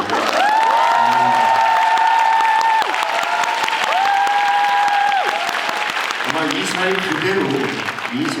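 Applause fills the hall at the curtain call of the closing Seoul performance of the musical Werther. Clapping is steady and dense throughout, with sustained high tones rising over it and crowd noise swelling near the end.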